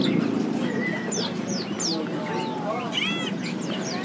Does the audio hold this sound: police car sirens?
no